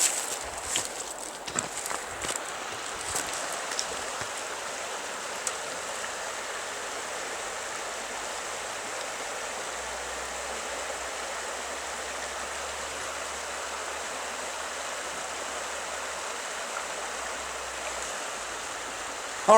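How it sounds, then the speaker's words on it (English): A wilderness stream rushes over rocks and riffles, a steady broadband wash of flowing water heard close and continuous, with a few faint knocks near the start. "the pleasant sounds that water makes with rushing over rocks"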